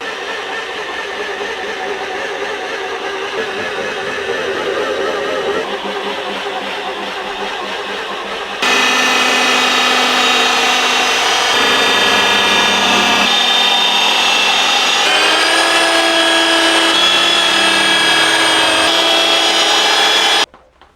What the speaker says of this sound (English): that is just one pass with a rotary polisher